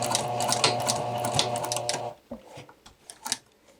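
Sewing machine stitching and back tacking skirt fabric, a close, steady burst of fast stitching for about two seconds that stops abruptly, followed by a few scattered handling clicks.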